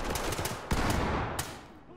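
Kalashnikov rifle fire in the tactical shooter Ready Or Not: a few sharp, close reports spaced unevenly across a dense background of game noise.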